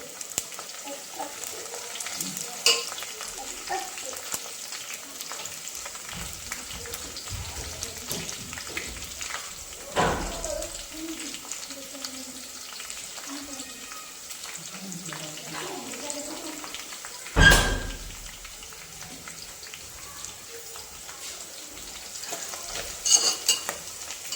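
Onions sizzle gently in a pan while bay leaves are added for biryani, with a soft steady frying hiss broken by a few sharp clinks and scrapes of utensils.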